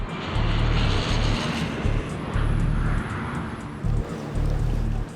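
An aircraft at Heathrow airport gives a broad, roaring engine wash that hangs steadily in the background, while a pulsing low drone rises and drops in regular bursts near the listener.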